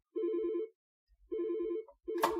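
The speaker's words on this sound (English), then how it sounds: "That's changed the ringtone there." A Wildix desk phone rings in two warbling bursts set to a changed ringtone, close and clear with short gaps, a third burst starting as a brief click or clatter cuts in at the end.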